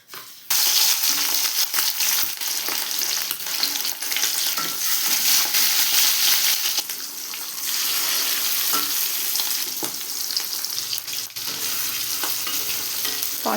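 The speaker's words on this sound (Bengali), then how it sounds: "এত বড় বড় পিস মাছগুলো হালকা একটু ভেজে নেব" Large pieces of hilsa fish fry in oil in a wok, giving a steady, close sizzle with crackling and occasional clinks that runs nearly the whole time without talk.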